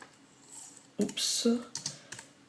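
Clicky keystrokes on a computer keyboard while entering a search in a browser, several quick taps and short bursts at close range with brief pauses between them.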